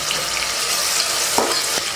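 Tomatoes, peas and potatoes sautéing in a hot pan give a steady, close sizzle and crackle, with a couple of brief stirring scrapes partway through.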